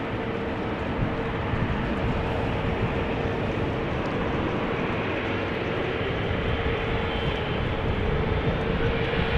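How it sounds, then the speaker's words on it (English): Jet airliners taking off from runway 18 Left at Amsterdam Schiphol Airport, heard as a steady, distant broadband roar with a faint sustained engine whine, constant throughout without speech. "these are the last airplanes that we are going to see take off before runway 18 left is going to close again"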